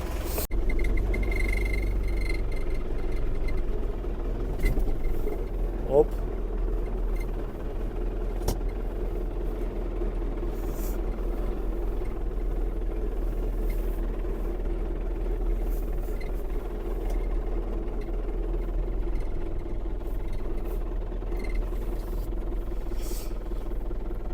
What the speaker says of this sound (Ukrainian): треба нагріти мотор, щоб зіляти його нормально